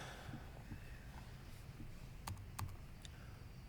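Keys clatter on a computer keyboard while code is typed, a few sparse clicks at first and then a quicker cluster of sharp taps, close and fairly quiet over faint room hiss.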